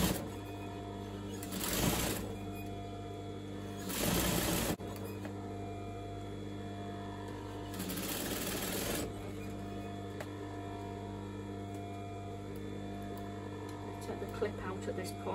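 An overlocker stitching seams on a full-length velvet coat runs in three short bursts of whirring, each lasting about a second, with a low hum and quiet pauses between them.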